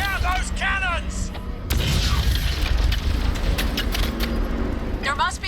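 Cannons and heavy guns firing in the PC game Crysis, with repeated booms and explosions over a dense, loud battle din, while characters talk over the action.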